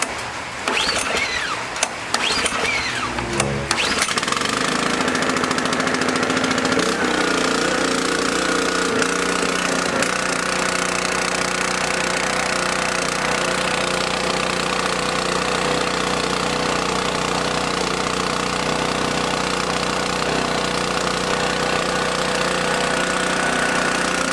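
A small engine runs steadily after a rough start, with fuel treatment (Seafoam) in the tank, its loud, even idle with a knocking, rattly edge continuing alone after a few seconds of starting clatter.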